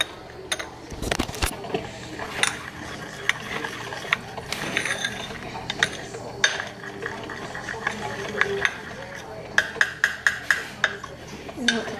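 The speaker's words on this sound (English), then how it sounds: "So you take half a spoonful of cocoa. I just stir it." A spoon stirs cocoa, giving irregular clinks and scrapes that turn into a quick run of bright, evenly spaced taps toward the end, close and fairly crisp.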